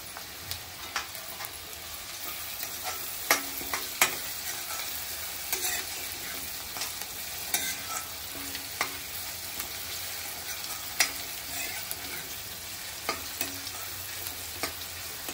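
Onion and curry leaves sizzle and fry in a pan for an eggplant-potato gravy, a steady soft hiss with faint stirring scrapes and occasional clicks, quiet and close with no talking.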